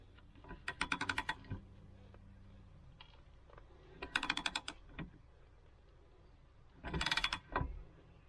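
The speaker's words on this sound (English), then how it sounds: "then put the torque wrench in" A torque wrench ratchets on the front wheel bearing of a Volvo 940, giving three separate bursts of fast clicking, close and fairly quiet, with pauses between each set of turns.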